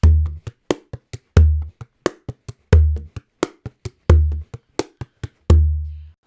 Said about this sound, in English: And the main 6/8 rhythm, it sounds like this.